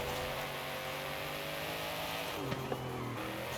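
Race car engine in Forza Horizon 5, a steady, droning high-rev tone under acceleration, then a quick pitch drop at a gear change near the end, with a light tire chirp.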